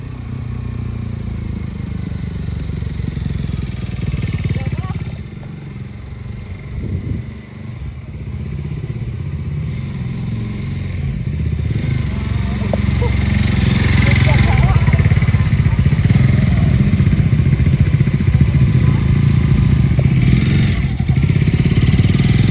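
Motorcycle ridden at steady speed, a loud continuous engine drone with wind rumble that swells slightly later on, with a voice talking over it.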